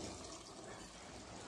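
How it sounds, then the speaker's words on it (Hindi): A cup of water pours into mutton curry that has been frying with spices, making a steady, soft splashing rush throughout. "अब इसमें हम डालेंगे 1 कप पानी"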